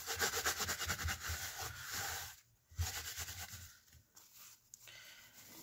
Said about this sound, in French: Et nettoyer mon pochoir par la même occasion.